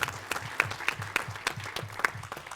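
Conference audience applauding after a clinical trials talk, steady mid-level clapping from many hands with a few crisp nearby claps punctuating the wash.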